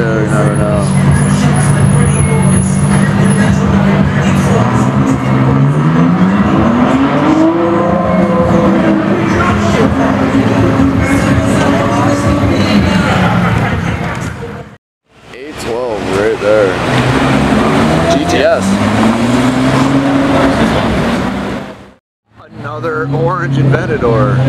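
Lamborghini Aventador engine roaring and revving up close on a public street, pitch climbing through rising sweeps over sustained loud rumble, with people talking over it and short gaps between bursts.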